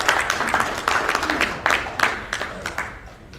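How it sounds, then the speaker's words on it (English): A crowd applauds after a congressional confirmation hearing is adjourned, a dense, moderately loud spatter of clapping that gradually thins and fades. "Round of applause."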